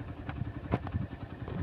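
Motorcycle engines of fellow riders idle and rumble on a cold mountain road near Gol National Park in Chitral, a low, steady, muffled engine sound at moderate distance.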